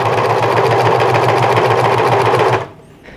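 Serger sewing machine running at full speed for a short test burst, a loud, steady, close mechanical whir with rapid stitching chatter that stops abruptly near the end.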